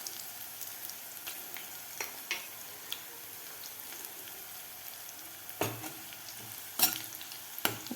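Asafoetida sizzles in hot oil while tempering for kande pohe, a low steady frying hiss broken by a few sharp clinks and stirring knocks of a utensil against the pan, with no speech.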